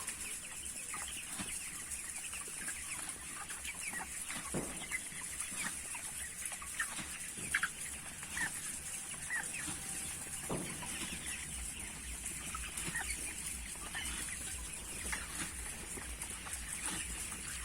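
Broiler chickens about 24 days old cluck and squawk on a poultry farm while being herded, a busy overlapping chorus with scattered sharper calls and a steady background hum.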